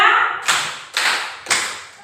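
Schoolchildren clap in unison during a counted classroom clapping game: three sharp, echoing claps spaced about half a second apart, following a brief voice at the start.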